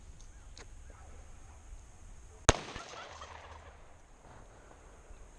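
A single sharp shot from a High Point .45 pistol fired outdoors at a cup, one loud crack in the middle with a brief decaying tail over a steady low background hiss.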